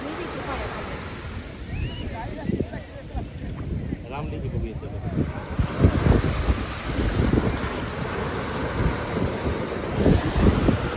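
Sea waves wash onto a beach in Goa under gusty wind buffeting the microphone, a continuous rushing surf with rising and falling swells while people talk nearby.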